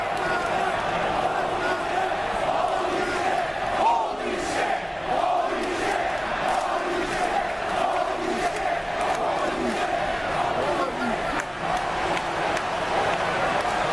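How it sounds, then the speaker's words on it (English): A large video game wrestling arena crowd roars steadily throughout, a loud continuous wash of cheering and chanting with no pauses. "And you hear this crowd already,"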